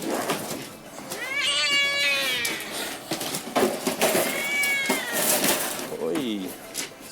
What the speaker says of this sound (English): it's one hell of a fight for a three-legged cat